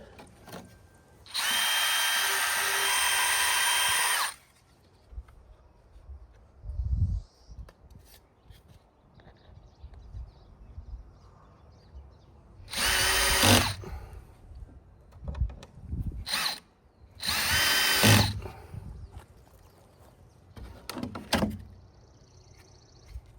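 A power drill whines loudly in several bursts while drilling into wooden fence lath, one long and steady, then shorter runs, with clunks and handling noise in the gaps.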